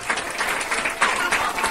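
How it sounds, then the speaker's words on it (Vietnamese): An audience applauds a singer at a live Vietnamese golden-era ballad (nhạc vàng) show, with a steady wash of clapping that rises in small surges, heard alone. "Và một tràng pháo tay lớn hơn nữa đi ạ."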